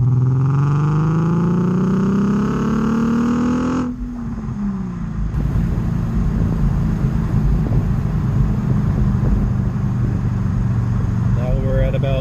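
A Nissan 350Z/G35 with eBay Manzo test pipes in place of the cats makes a full-throttle pull in second gear, its engine note climbing loudly in pitch before easing off into a lower, rougher drone.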